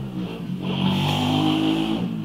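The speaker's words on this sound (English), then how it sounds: "He's on a fucking mini bike." A small mini bike engine revving up nearby, a buzzing motor tone that rises in pitch and loudness and then holds steady.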